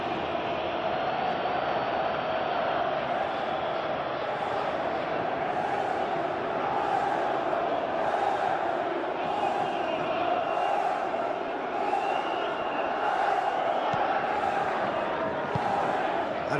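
Simulated stadium crowd cheering in the PES 21 football video game during a Galatasaray vs Liverpool Champions League match, a loud continuous roar with chanting surges throughout.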